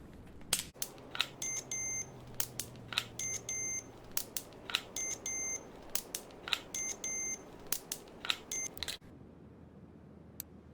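Electronic multimeter in Car Mechanic Simulator 2021 beeps while checking fuses on a Bolt Hornet, giving a long series of short, clear, evenly spaced electronic beeps in clusters over a low steady hum, then stopping abruptly near the end.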